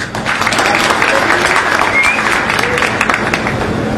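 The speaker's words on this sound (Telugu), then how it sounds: "మీ అందరికీ మీరే ఒకసారి చప్పట్లు కొట్టుకోండి తమ్ముళ్ళు" An audience at a political meeting claps steadily, a dense wash of hands with crowd murmur mixed in, continuous and fairly loud throughout.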